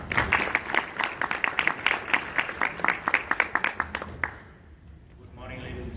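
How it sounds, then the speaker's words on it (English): Audience applause at an export-opportunities business presentation, a few close hands clapping in quick rhythmic bursts for about four seconds before cutting off abruptly into quiet room tone. "Let's give him a round of applause."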